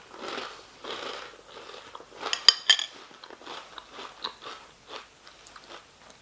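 Someone chews crunchy Harvest Morn honey nut pillows cereal with milk, close to the mic, with a steady run of crisp bites and crunches and a few sharper cracks in the middle.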